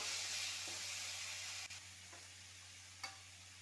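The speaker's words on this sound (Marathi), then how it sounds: "आणि हे मीठ चांगलं मिरची तळून घ्या चांगली" Chillies fry in hot oil with salt, a faint, steady sizzling hiss over a low hum, with a couple of brief sharp clicks as the pan is stirred, and no voices.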